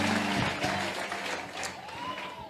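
A church congregation claps and cheers in acclamation of Jesus, a dense burst of applause that gradually thins out, heard alone without speech.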